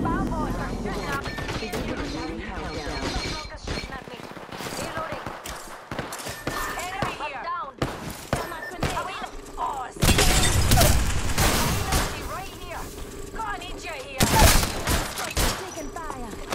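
Gunfire in a shooter video game, dense bursts of automatic shots and bangs with a few louder blasts, mixed under voices talking and shouting throughout.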